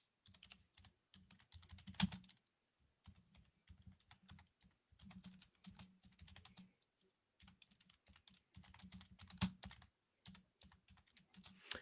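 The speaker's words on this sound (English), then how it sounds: "I see you typing there" Typing on a computer keyboard during a wrestling predictions show, bursts of quick clicking keystrokes with short pauses between, fairly faint and close, no voices.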